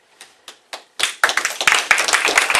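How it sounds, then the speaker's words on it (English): At a Rotary club meeting, a few scattered claps from the audience are quickly joined by a burst of fuller applause from a small crowd, close and lively, with no talking. "I think you guys deserve a really a round of applause"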